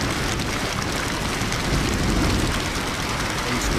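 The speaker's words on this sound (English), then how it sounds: "Rain, Tempest." A rain storm summoned by the Tempest ghost in Ghost Master, a loud, dense, unbroken hiss of heavy rainfall with a low rumbling undertone of thunder and wind.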